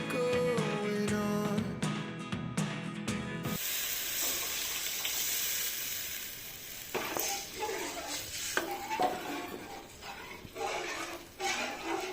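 Vegetable curry with tomatoes re-fried in a pan at home, a steady soft sizzle with occasional stirring scrapes, heard after a burst of background music.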